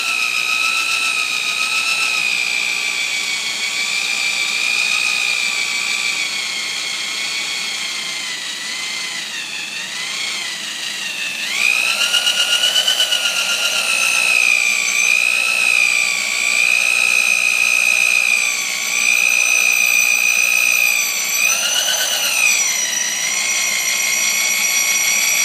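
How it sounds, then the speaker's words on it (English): An electric drill bores out a hole in the metal of an overheating Cadillac engine, running as a steady high-pitched whine that rises and shifts in pitch as the bit bites, loud and close throughout with no talking. "we're going to start drilling out this hole"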